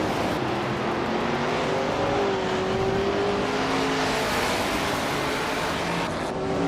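Race cars, including a 1968 Porsche 908L, launch at the start of a video game race on Seattle Circuit Reverse, with loud, continuous engine roar and revs rising and shifting as the pack moves off.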